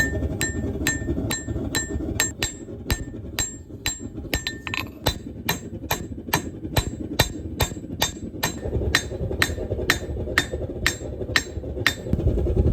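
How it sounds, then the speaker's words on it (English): Steady, rapid cross-peen hammer blows ring out on hot steel being forged from an old horseshoe, a bright clinking strike roughly every third of a second, continuing without pause. "I'm going to use this little part of the crossbeam hammer to help draw out that width"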